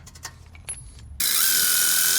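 A ratchet clicks in quick bursts while bolts are snugged down on a 2018 GMC Denali 1500 Viking coilover install, then a loud power-tool whir takes over abruptly and runs steadily, close up.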